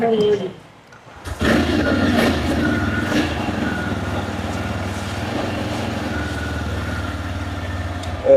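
A new motorcycle, a sensor-equipped model with button start compared against a Pulsar, fires up after a brief silence and settles into a steady, loud idle rumble, with people talking over it.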